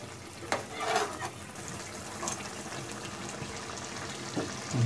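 Paniakhia fish added to a pan for fish jhal and stirred, a soft sizzling crackle with scraping stir strokes and occasional clinks, fairly faint and close.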